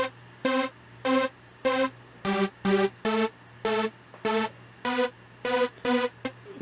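Sylenth1 synth lead with chorus, programmed in FL Studio, plays a rhythmic pattern of eleven short, bright sustained notes with rich harmonics over a low steady drone, evenly spaced and loud, with no voices.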